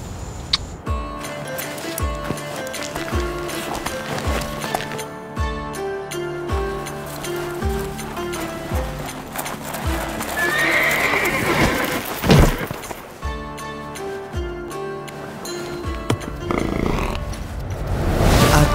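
Runaway horses gallop and neigh in a fantasy short film, loud whinnies rising over rhythmic hoofbeats and clip-clops that drive on throughout, with swells of noise and no speech.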